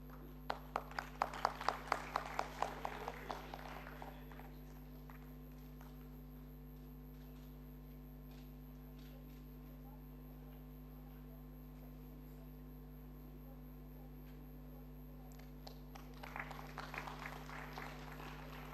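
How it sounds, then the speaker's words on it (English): Applause at an inaugural ceremony: a short burst of clapping that fades out after a few seconds, then a long quiet stretch with steady hum before scattered clapping returns near the end. "please give a big round of applause"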